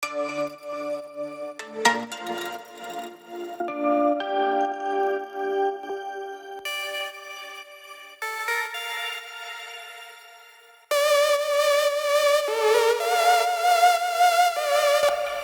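A Prophet synthesizer melody plays alone, building from sparse notes into a bright, layered lead line with lots of movement.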